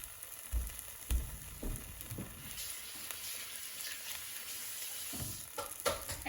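Two eggs frying on a flour tortilla on a hot flat-top griddle, a steady soft sizzle running throughout with a few louder pops and crackles, nearby and moderately quiet.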